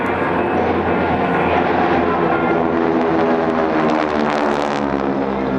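Four Pratt & Whitney radial-engine aircraft of about 2,400 horsepower pass at an airshow, a loud, continuous, dense droning roar that holds steady throughout.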